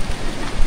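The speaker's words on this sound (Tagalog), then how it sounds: "Lumalakas par, lumalakas ulan." Heavy rain pours steadily near a hut in a mountain village, a dense, continuous hiss and patter with no voices over it.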